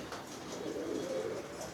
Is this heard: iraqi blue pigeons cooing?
yes